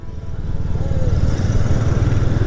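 Royal Enfield motorcycle ridden at night from Palakkad on a Christmas ride, a steady low engine drone and thump running loud and continuous throughout, close to the rider.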